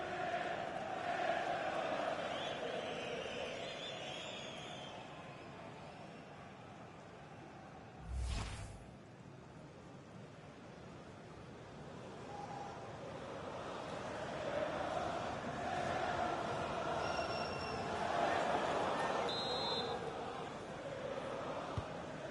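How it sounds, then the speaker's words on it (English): A stadium crowd in the FC26 football video game, a steady, swelling roar of many voices rising and falling over a long stretch, with a commentator speaking over it. "Well, just listen to this crowd."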